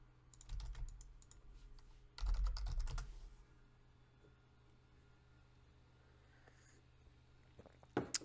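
Typing on a computer keyboard in two quick bursts of close, crisp key clicks, then near silence with a faint hum and a final sharp tap.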